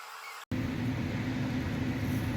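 A laser cutter works through scrap wood, its steady machine hum and fan whir starting abruptly after a brief silence and holding loud and even throughout.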